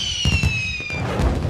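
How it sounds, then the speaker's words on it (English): Fireworks go off in a cartoon scene: a cluster of sharp bangs and thuds with whistling tones sliding downward, loud and close, over about a second and a half. "Look, Junior, Daddy's bought some fireworks."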